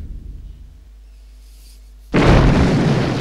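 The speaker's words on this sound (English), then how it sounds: "You see, a big nice explosion, and that's actually how you get the big explosions." A big explosion in the Age of Empires II video game bursts in suddenly after a low hum, a loud, broadband boom that keeps rumbling and roaring to the end, with no talk over it.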